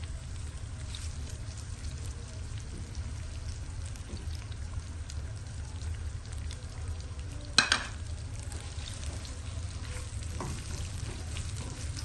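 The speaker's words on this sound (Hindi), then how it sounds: "प्याज को ना मैं ब्राउन कर लूंगी।" Chopped onions browning in hot oil in a pan for vegetable pulao, a steady close sizzle and crackle throughout, with one brief clatter of a spoon stirring partway through and no speech.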